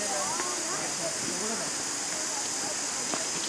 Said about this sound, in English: Thosegarh waterfall